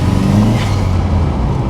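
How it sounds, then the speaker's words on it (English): A turbocharged Mk2 VW Golf GTI accelerates hard, its engine note a loud, close, continuous roar that surges and holds under load, with no talk over it. "Let's see if we can do some turbo noises."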